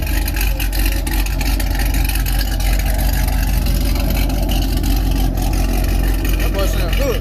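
A car engine rumbles loudly and steadily nearby at a large car meet in Dallas, Texas, revving with a deep throaty roar, with outdoor background noise throughout.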